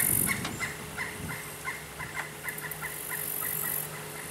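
Several birds at Lake Hernando Park call in repeated rapid gobbling bursts, loud and close at first, then continuing in choppy clusters throughout.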